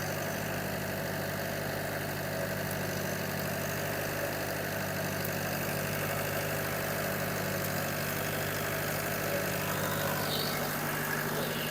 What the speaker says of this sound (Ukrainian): Тепер вмикаємо стенд. І дивимося, як змінюються оберти, як получає він навантаження.